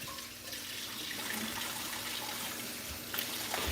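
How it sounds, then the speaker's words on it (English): Tap water runs steadily into a sink as hands are washed, a continuous close splashing flow that holds even for a few seconds with small surges near the end and no talking. "I gotta wash my hands real quick"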